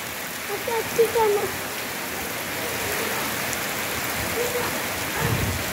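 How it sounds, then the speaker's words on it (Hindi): Steady heavy rain with small hail drums on surfaces throughout in Islamabad, with faint rumbling in the background. "सख्त तरीन बारिश जो कि छोटे छोटे ओले यानी जलाबारी के सूरत में"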